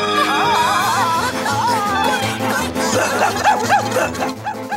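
A dog barks and yips in a lively children's TV scene, the barks loud and repeated against music and an excited voice.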